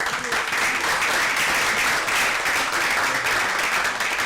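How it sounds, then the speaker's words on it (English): A crowd at a real estate flipping and wholesaling masterclass applauds the event sponsors, a loud, sustained wall of clapping from many people that stays even and unbroken with no talk over it. "let's give those guys a round of applause"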